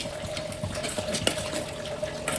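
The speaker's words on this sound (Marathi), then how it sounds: "आता आपण हे जे तांदूळ आहे ते टाकून घेऊ" Rice poured into boiling water in a pot for khichdi, a continuous bubbling, rushing water sound with small splashes, close and moderately loud, without speech.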